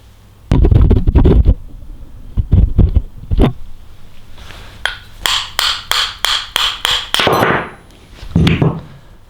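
A hammer taps a seized bearing out of its housing. Clusters of hard metallic blows are followed by a fast, even run of about ten ringing taps, close and loud, with no talk.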